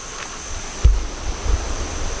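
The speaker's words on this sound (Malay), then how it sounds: "saya boleh dengar bunyi desikan air yang sedang mengalir" Water flowing near a rock site in Engkelili, Sarawak, a steady soft rush with wind buffeting the microphone and a couple of low thumps.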